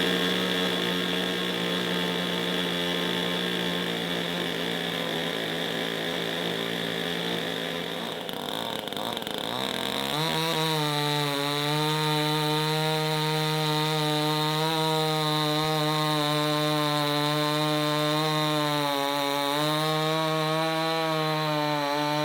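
An old chainsaw, tuned up, runs at a steady high-pitched whine while cutting through wood, with a brief bog-down midway before revving back up.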